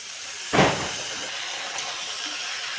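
Fried vegetables drop into a hot pan, giving one sudden close sizzling burst that settles into a steady, softer hiss.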